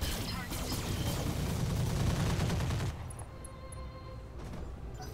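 Mech weapons firing in the video game Roguetech: a dense, loud barrage of overlapping gunfire and booms for about three seconds, then cutting to quieter game ambience.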